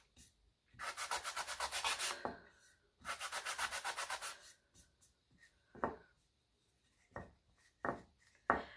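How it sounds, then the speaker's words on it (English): Sandpaper rubs back and forth on a wooden thrift-store piece along the grain, two long rhythmic scratchy passes followed by a few sharper, isolated scrapes and taps, close and fairly quiet with no talking. "sand in the direction of the grain of the wood here"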